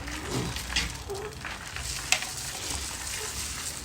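Food frying in a hot pan as ingredients are slowly added, a steady broadband sizzle with soft stirring clatter and a sharp click near the middle, no talking.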